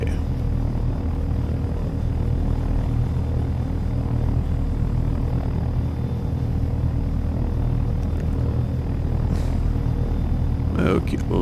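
Helicopter in the video game Take On Helicopters setting down for a landing, with a loud, continuous rotor and engine drone that holds steady, and a brief extra whoosh near the end.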